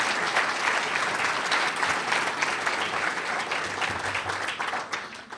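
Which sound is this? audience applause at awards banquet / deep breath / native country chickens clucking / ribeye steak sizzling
audience applause at awards banquet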